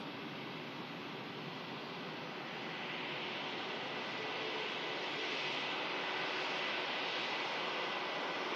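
Turkish Airlines airliner at a wintry Manchester Airport, its engines giving a steady broadband roar that swells gradually louder over the clip, with no voices.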